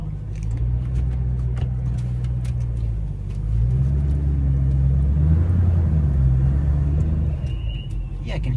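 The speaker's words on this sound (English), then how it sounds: "Yeah, I can hear a burble already." Low, steady exhaust burble from a 2007 Mustang GT500 fitted with an H-pipe and Corsa Extreme exhaust, rumbling continuously close by while driving around the block, swelling slightly midway.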